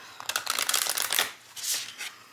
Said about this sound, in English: I'm actually just going to do a side shuffle with this deck.